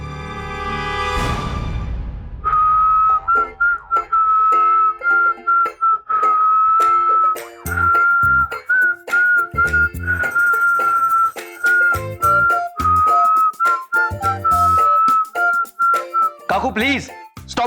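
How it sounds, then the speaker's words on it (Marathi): A person whistles a sustained, wavering tune close and loud for many seconds, in short phrases with brief pauses, following a sharp noisy burst at the start. "मग आता मी शिट्टी वाजवते तर लगेच तुम्हाला काही डिस्टर्ब होतंय का?"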